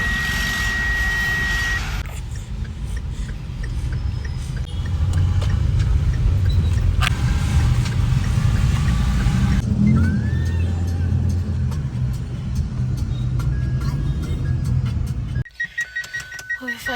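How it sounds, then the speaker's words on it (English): Steady Bangalore road traffic heard from inside a vehicle, a continuous low engine and road rumble with faint horns and beeps over it, running throughout and dropping off abruptly near the end. "Bangalore traffic."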